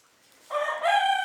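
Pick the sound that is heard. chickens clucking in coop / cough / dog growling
chickens clucking in coop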